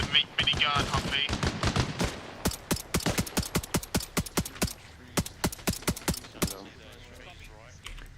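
A minigun mounted on a Humvee fires in Arma Reforger, sharp rapid bursts of gunfire in clustered volleys, loud and near, with a voice talking briefly at the start.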